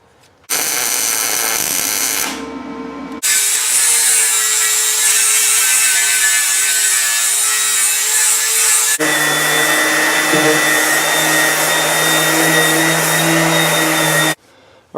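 A power sander grinds down a weld on a steel Jeep frame, giving a loud, harsh, continuous whine. It cuts out briefly twice, then runs on at a slightly different pitch before stopping.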